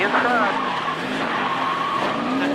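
Tires squeal and skid with roaring NASCAR Cup Series race car engines during an onboard crash, a continuous screeching slide heard loud and close.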